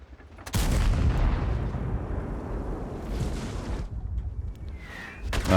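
Artillery fire in World of Tanks, heard as a heavy, close boom that erupts abruptly and rolls into a long rumbling decay, followed by a fainter second swell and a thin whistling tone near the end.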